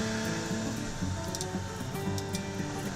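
A newly delivered large-format 3D printer runs its first calibration routine, giving a steady mechanical hum with layered motor whine and small shifting stepper tones throughout, fairly close and continuous.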